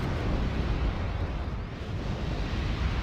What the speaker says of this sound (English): And there's the first salvo of rockets